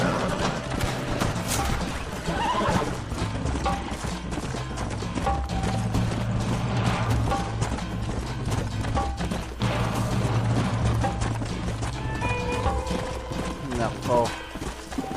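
Horses in the Western video game Red Dead Redemption clop steadily at a gallop through busy game music and effects, with an occasional whinny and a voice talking over the scene.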